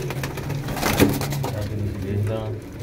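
Flying pigeons in a group of thirty offered for sale in Faisalabad, cooing softly in the background while someone talks nearby.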